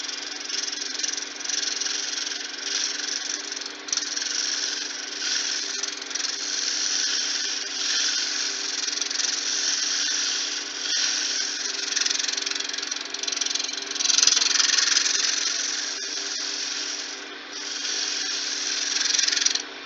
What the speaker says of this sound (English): I'm just going to use my roughing gouge to do that